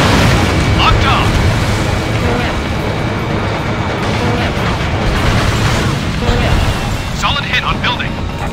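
In the video game Ace Combat Infinity, a missile strikes a building during an attack on a weapons base, a loud, sustained, rumbling blast roar that fills the clip, with faint crackles near the end.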